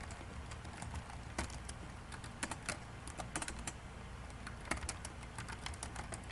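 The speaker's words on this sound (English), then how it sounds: "sorry, can't type and talk." Rapid clicking of keys on a computer keyboard, an irregular close-up patter of taps with occasional louder key strikes continuing steadily for about six seconds without speech.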